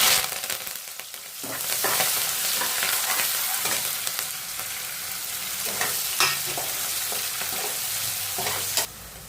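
Urad dal, onion and curry leaves fry and sizzle in a hot pan while being stirred for a masala upma, a steady close crackle with scraping strokes throughout and no voices.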